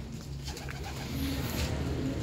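A pigeon coos in low, repeated hums close by, with soft background noise around it.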